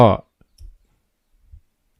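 A computer mouse gives two soft, separate clicks during work on a Google Sheets mobile app login setup, heard just after a short burst of a voice in an otherwise quiet room.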